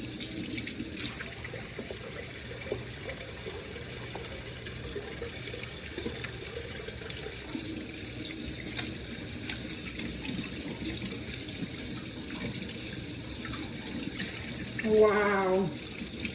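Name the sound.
washing hands under running tap water at sink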